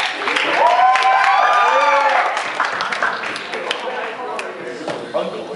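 A crowd applauds and cheers, with scattered claps and whoops mixed with voices, loud at first and then tapering off.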